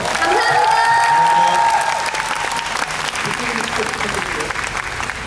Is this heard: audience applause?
yes